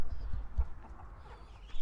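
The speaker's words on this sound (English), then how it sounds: "Chickens, they're great for your kitchen scraps." Backyard laying hens kept for eggs and fed kitchen scraps cluck softly and intermittently, with low bursts of their murmuring scattered across a short outdoor stretch.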